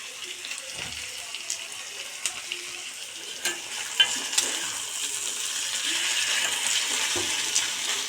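Steady close sizzling and frying as a hilsa fish head is stirred and sautéed with taro greens in a pan, with spatula scrapes and light clinks over the constant hiss.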